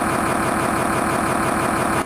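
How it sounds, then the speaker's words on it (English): A car engine idles steadily in cold, snowy weather, a dense continuous rumble with a faint rhythmic knock, close and loud before cutting off at the end. "Hey, just so you know, the engine just started."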